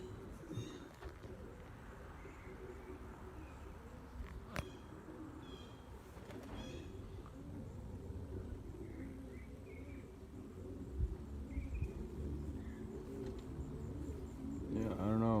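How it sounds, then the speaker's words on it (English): Racing pigeons cooing outdoors, soft low coos and faint wingbeats at a moderate distance amid quiet background noise, with a few sharper clicks and a louder rustle near the end. "It's somebody else's birds right there."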